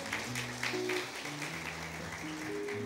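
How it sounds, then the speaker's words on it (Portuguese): A church congregation claps for visitors in a dense, steady round of applause under sustained organ or keyboard chords, moderately loud and lasting throughout. "uma salva de palmas para os nossos visitantes"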